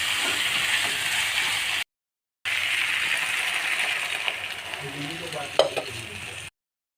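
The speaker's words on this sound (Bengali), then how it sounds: "এবার এর মধ্যে জল দিয়ে দেবো" Water goes into a spiced mixture frying in a pan for a fish-head dish, raising a steady loud sizzle and hiss that cuts out briefly, resumes, then breaks into bubbling and a few clinks before stopping.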